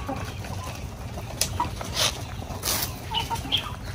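Laying hens cluck quietly a few times against a steady low background hum, with a couple of brief sharp noises.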